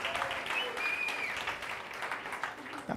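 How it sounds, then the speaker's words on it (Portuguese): A church congregation claps steadily throughout, a dense wash of applause with some voices mixed in underneath. "Dá um aplauso aí, por favor"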